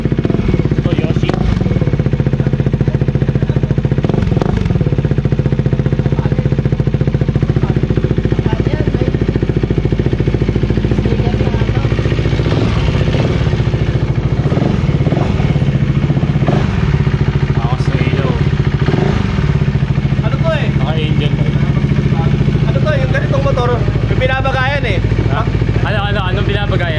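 A KTM RC390 motorcycle engine runs steadily at a riverside spot, a constant mid-pitched drone with light clatter throughout while people talk over it.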